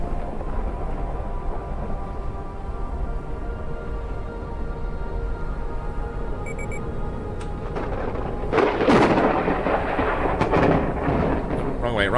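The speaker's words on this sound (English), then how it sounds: "A storm is coming." Thunderstorm in the video game Forever Skies: a continuous low rumbling roar of wind and storm noise that swells into a loud, crackling thunder burst near the end.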